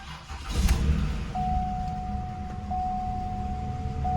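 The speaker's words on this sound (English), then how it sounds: "Okay, starting the car." A 1988 Buick Reatta engine cranks and catches with a short burst, then settles into a steady close idle while a repeating electronic chime sounds from the cabin.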